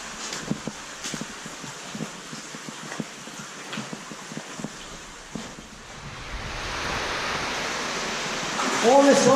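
A small waterfall inside Samar cave at Kopajkošara gives a soft, hissing wash of water with scattered knocks and taps over it. It swells into a louder, steady rush in the final seconds.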